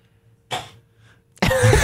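Two harsh coughs close to the mic, a short one followed by a longer, louder hacking burst.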